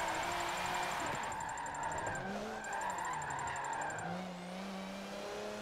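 Car engine in a racing video game, drifting without clutch or handbrake, driven with a Logitech G920 wheel: a steady rising and falling engine drone with tire squeal, moderately loud and uninterrupted.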